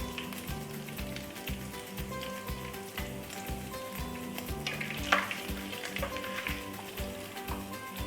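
A teaspoon of cumin seeds hits hot oil in a pan while cooking stuffed bitter gourd, making a steady close sizzle over rhythmic stirring scrapes and one sharp clink midway.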